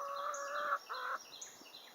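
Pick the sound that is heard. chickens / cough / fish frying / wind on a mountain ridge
chickens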